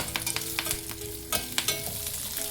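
Curry leaves frying in hot oil in a pan, a soft continuous sizzle with scattered scraping clicks as a spoon stirs them, no voices.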